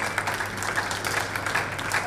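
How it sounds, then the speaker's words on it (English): An audience at an ISSF shooting World Cup in Bhopal, India, applauds the women's 50 m rifle three positions gold medalists, steady dense clapping filling the hall. "please put your hands together for a round of applause for the 50-meter rifle three positions women gold medalists"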